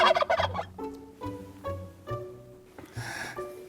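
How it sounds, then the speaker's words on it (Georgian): A turkey gobbles in several close, loud bursts of rapid warbling, with short pauses between calls. "ნაბოზარი ინდაური რა."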